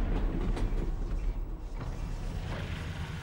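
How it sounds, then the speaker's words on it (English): A moving train in the video game Half-Life: Alyx gives a steady low rumble with faint clanks and creaks, a constant rolling background. "Did the train stop? It stopped, didn't it?"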